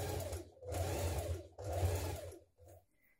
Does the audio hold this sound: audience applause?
no